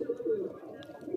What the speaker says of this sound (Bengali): এই যে দেখেন আমার কত কবুতর।